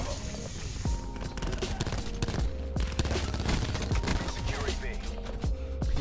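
Dense rapid gunfire from a video game battle near an objective, with bursts of automatic fire and scattered single shots mixed with explosions and a tank, continuous and loud with brief talk over it.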